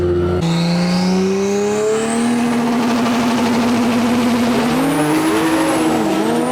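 Dodge Charger Six Pack cars launch in a Detroit street race. Loud, close engines rev and rise steadily in pitch with a rising whine, then shift and climb again.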